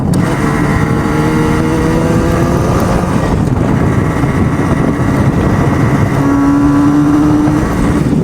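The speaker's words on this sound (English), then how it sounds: "This bike runs so great. It just cruises right along," Restored vintage motorcycle, back on the road after sitting 52 years, cruising steadily with a continuous loud engine drone and rising harmonic whine, running throughout with no talk.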